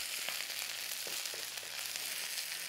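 Onions frying in a pan, a dense continuous sizzle with faint scattered taps from stirring, steady and close with no talking.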